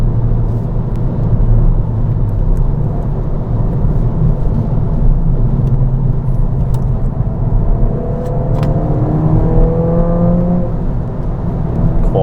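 A stock Ford Fiesta ST engine hums steadily while driving, with a low rumble and wind noise and a rising whine of acceleration near the end.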